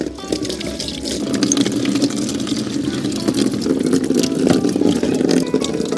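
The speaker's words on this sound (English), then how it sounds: "the slopes of the rocks helps the water run back into the reservoir" Pond water runs over sloped rocks back into a garden reservoir, a continuous close splashing trickle that holds steady throughout.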